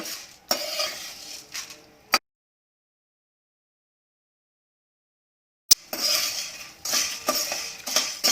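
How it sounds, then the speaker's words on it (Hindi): Spoon scrapes and clinks against a pan while stirring edible gum (gond) in short bursts, close and fairly quiet, with a silent gap in the middle. "गोंद को लगातार स्टर करेंगे।"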